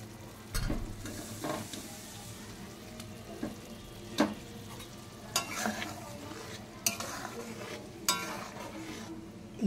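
Puti fish are dropped one by one into a pan of boiling liquid and stirred, giving soft bubbling with sharp clinks and scrapes of a utensil against the pan at irregular moments; a voice is faintly present.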